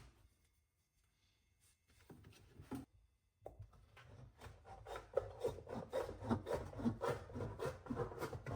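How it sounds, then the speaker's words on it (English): Snips cutting sheet metal for HVAC ductwork, rhythmic crunching cuts that start faintly after near silence and grow louder and denser toward the end, no talking. "Keep your snips straight up and down. They'll cut straight for you"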